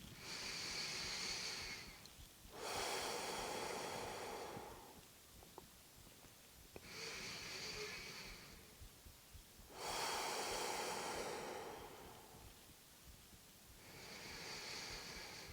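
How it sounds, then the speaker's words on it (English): Slow deep breaths during a vinyasa yoga flow, long airy inhales alternating with fuller exhales in a steady rhythm, close and fairly quiet, with no talking. "releasing as much air as possible as you exhale to create space for that next breath to move in"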